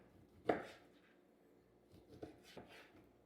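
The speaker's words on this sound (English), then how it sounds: "We're going to cut the steaks into chunks." A knife cuts steak into chunks of about one inch on a board, giving one sharp cut followed by a few softer, quieter strokes, close and without speech.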